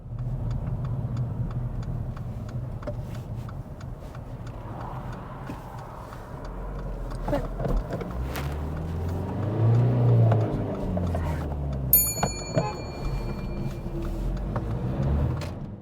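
A car in the wrong gear pulls from a slip road onto a carriageway, its engine humming quietly, then straining into a louder rev midway, with faint ticking in the cabin.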